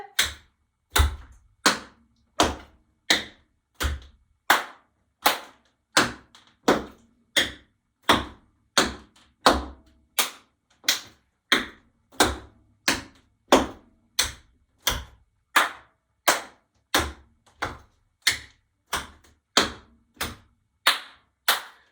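Crisp tap shoe strikes alternate heel and ball in a steady, evenly spaced rhythm, interspersed with sharp hand claps, loud and close with no talking over the sequence.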